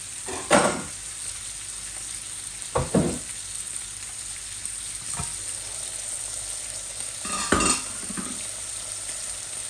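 Hilsa fish, one side already cooked, fries in a pan with a constant close sizzle, broken by a few sharp utensil clinks and scrapes spaced several seconds apart.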